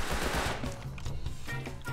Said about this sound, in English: Oh yeah, he's shooting at us right now.